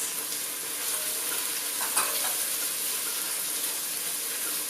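Small pieces of ginger fry in a pan with a steady, bright sizzle, joined by a brief scrape of stirring partway through, close and with no talk.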